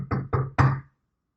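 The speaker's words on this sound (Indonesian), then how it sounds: "kamu berdiri di luar dan mengetuk pintu" Three firm knocks on a door, evenly spaced and close, the last one slightly heavier, followed by silence.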